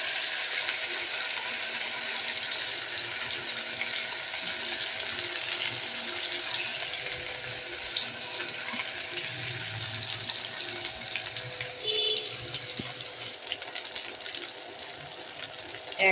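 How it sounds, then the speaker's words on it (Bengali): Marinated bitter gourd (uchhe) pieces frying in hot oil in a kadai make a steady, soft, close sizzle that runs without a break, with faint clicks near the end. "আবার উল্টো পিঠ দিয়ে আবার ভাজছি"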